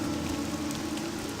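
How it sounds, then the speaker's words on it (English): Heavy rain falls in the Morrowind video game, a dense, even hiss of downpour with a low steady rumble beneath, continuous and fairly close throughout. "Where it's raining like hell."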